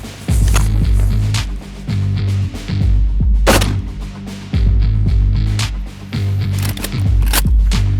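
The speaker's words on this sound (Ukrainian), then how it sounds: "Це трофейний російський бронебійний патрон. Стріляємо для початку ним." Loud gunfire, several rifle shots fired in irregular succession, each a sharp, booming crack with ringing decay, close to the listener.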